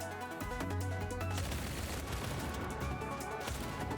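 Rapid bursts of gunfire in the video game Lithium City, steady and dense over game music, with no talk.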